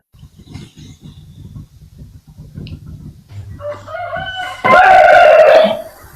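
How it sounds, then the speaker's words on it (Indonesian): A rooster crows at night, a loud, close cock-a-doodle-doo that swells near the end after a stretch of low, scattered background rumble. "Ada ayam malam-malam."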